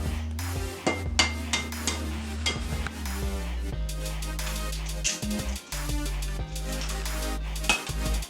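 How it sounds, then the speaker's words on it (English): Eggs go into a big mixing bowl during home cake-making, with repeated clinks and knocks against the bowl, clattering utensils and rustling, close and fairly loud throughout. "Now I can put the eggs in the big bowl."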